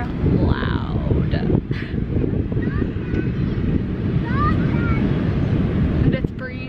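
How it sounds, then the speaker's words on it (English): Ocean waves and a breeze on a private beach make a loud, continuous wash of rushing noise with wind buffeting the microphone, while a few faint voice-like tones drift in. "And the waves are still loud."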